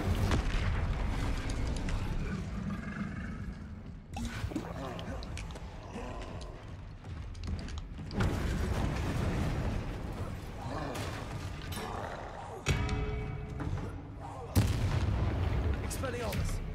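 The Incendio fire spell cast in Hogwarts Legacy on PS5 lets out repeated booming, whooshing blasts amid heavy battle noise, loud and layered, with a voice speaking over parts of it.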